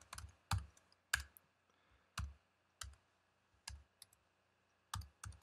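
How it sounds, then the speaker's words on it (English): Sparse keystrokes on a computer keyboard, about eight distinct, close clicks spaced irregularly roughly every half second against a quiet background. "let me type my favorite words"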